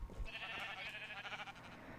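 Sheep bleating in the Minecraft video game, a single drawn-out wavering bleat lasting most of two seconds, fairly faint, heard alone without talk.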